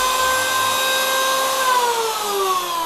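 A used Japanese power saw runs steadily during a function test, a loud continuous motor whine that slowly drops in pitch as it spins down, with no talking.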